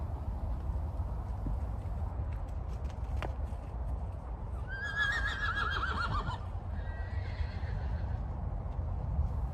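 A Mustang horse trots over open ground with soft, continuous hoofbeats under steady low rumble. A clear, high whinny rings out midway through.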